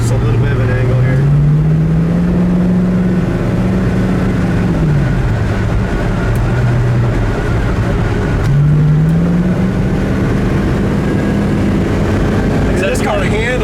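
A 1972 Chevy Nova's engine drones steadily while driving, its pitch climbing, then dropping sharply and rising again as it shifts down, with road noise throughout and occasional talk.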